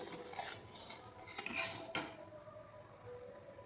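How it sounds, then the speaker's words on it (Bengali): Jaggery being stirred in a kadai over a medium gas flame, a spoon scraping and clinking against the metal pan in soft, irregular strokes, quiet and close with no talking. "এখন গুড়টাকে ভালো করে জাল দিতে হবে আর অনবরত নাড়তে হবে, নইলে কড়াইতে লেগে যাবে।"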